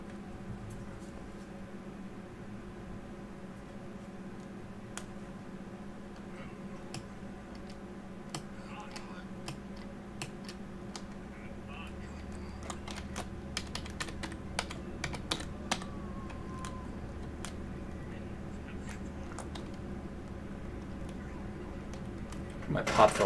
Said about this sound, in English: clean out the clickety clack on my keyboard